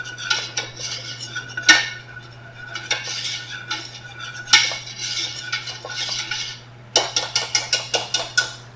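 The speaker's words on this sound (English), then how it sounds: "We're going to pull out our whisk and really blend the flour with the butter" A metal whisk blending flour into melted butter in a pan, clinking and scraping against the sides in uneven strokes, ending in a quick run of rapid rhythmic taps, with a steady low hum underneath.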